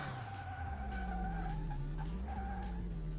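An inline 3-cylinder car in the video game Car Mechanic Simulator hums steadily at speed, its engine tone rising and dipping slightly under tire noise, continuous and up close.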